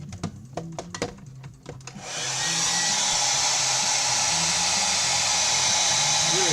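A hair dryer blows to dry an ink sketch, switching on after a moment of faint rustling and then holding a loud, steady, close-up rushing whoosh without a break.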